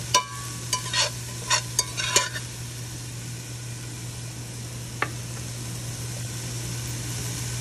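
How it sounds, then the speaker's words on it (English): Ratatouille vegetables seasoned with salt and pepper being stirred in a pan, a few scraping strokes and clinks of the spoon at the start over a steady low sizzle and a constant background hum, then mostly quiet hissing. "go ahead and get that stirred and combined"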